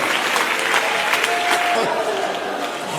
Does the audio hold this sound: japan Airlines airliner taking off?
no